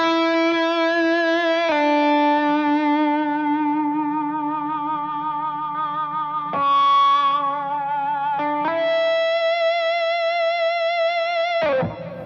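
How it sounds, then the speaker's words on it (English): An ESP electric guitar played through a distortion pedal rings out in long sustained notes with a buzzing, harmonically rich tone, shifting pitch a few times and holding each note with slow vibrato before cutting off. "That sounds like a distortion pedal."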